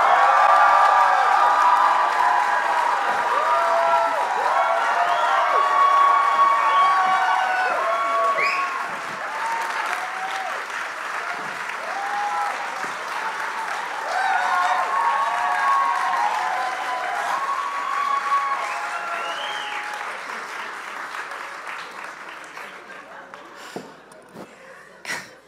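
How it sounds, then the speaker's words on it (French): Live podcast audience applauding and cheering as guests come out, a loud sustained roar of clapping with whoops and shouts that gradually thins and fades toward the end. "faites un tonnerre d'applaudissements pour Joe Exotic et Carole Baskins."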